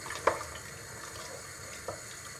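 Beef goulash broth just coming to a boil in a pot gives a soft, steady watery simmer with two small bubble pops, quiet and close, with no one speaking.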